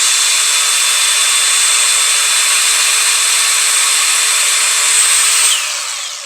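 A cordless angle grinder runs at a loud, steady high-pitched whine, then is switched off near the end and spins down as the sound fades.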